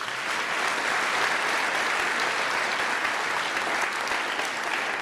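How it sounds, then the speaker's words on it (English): An audience at a high school Veterans Day assembly breaks into sustained, dense applause that fills the hall evenly from start to finish, with no speech over it. "let's give them a round of applause too"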